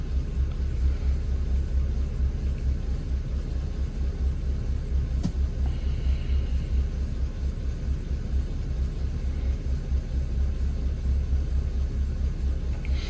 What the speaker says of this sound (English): I've got the car running